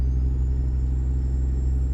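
A Peterbilt 379 truck engine in American Truck Simulator 1.49 hums with a steady, loud low rumble, idling or cruising evenly throughout, with a faint high whine on top and no talking.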